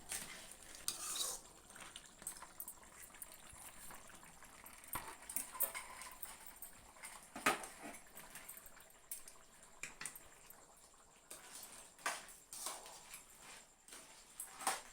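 A spoon stirring spice powders into a crab curry in a pot, repeated scraping and clinking strokes over a faint simmering sizzle, close and without talk.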